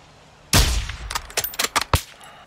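Sniper rifle shots in Call of Duty: Modern Warfare II: a loud, sharp opening shot, then several quicker cracks and impacts over about a second and a half, with no talk.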